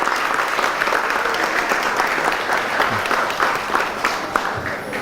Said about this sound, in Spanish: Demos un aplauso a los padres de nuestra iglesia.